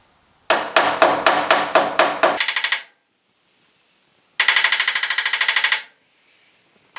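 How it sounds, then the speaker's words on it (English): Quick, sharp hammer taps on the metal door jamb of a 1950 Chevy truck in two bursts, a rapid run of strikes, a pause, then another short flurry of ringing taps. "I'm gonna have to tap right here just a little bit with a hammer"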